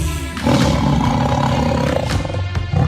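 A tiger roars in a staged dance drama, a loud, sustained growling roar with a couple of sharp surges, close and filling the whole moment.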